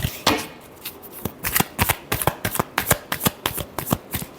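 Tarot deck shuffled by hand in a quick run of crisp, evenly spaced riffling slaps, close and distinct, about a dozen strokes over four seconds.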